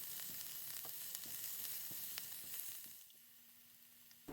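Chopped yellow onion and minced garlic sizzle in melted unsalted butter in a pan, a steady close frying hiss with occasional stirring clicks that quiets near the end.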